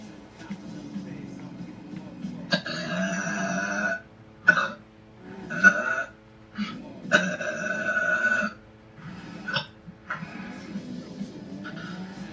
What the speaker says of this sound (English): And make you burp even a bit louder.